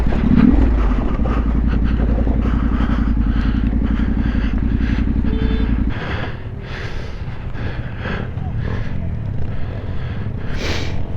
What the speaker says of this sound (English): So there you go, Leo, there's the bike.